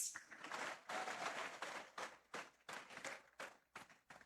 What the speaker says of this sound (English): join me in saluting them with a resounding round of applause